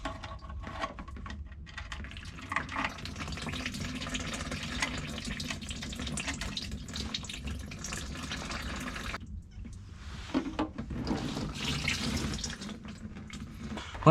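Transmission oil from a Porsche Cayenne automatic gearbox drains in a continuous splashing, trickling stream with a brief break partway through, close and fairly steady with no talk.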